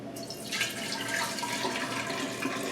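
Cold tap water pours steadily into a gallon glass jar for pickle brine, a continuous close splashing and gurgling rush with no speech.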